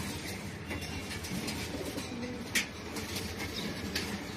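Racer pigeons cooing inside a loft, low repeated throaty coos layered over one another at close range, with a sharp brief flutter or knock midway.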